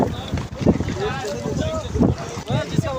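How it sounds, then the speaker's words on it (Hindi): Raft on rushing river water near Naran Kaghan, a continuous roaring wash of water and wind noise close to the microphone, with people shouting and talking over it. "फाइनली राफ्टिंग शुरू।"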